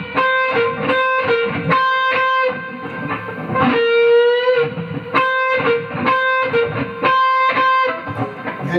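A distorted electric guitar plays a song's outro solo, loud and close, with repeated picked notes, a sustained bent note in the middle and clusters of sharp attacks, and no talking.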